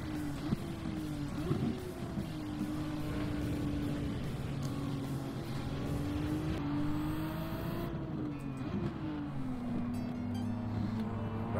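A Nissan GT-R R32 race car in Gran Turismo 7 drones steadily at high revs, its engine pitch rising and dipping through gear changes over a continuous roar, with no talking.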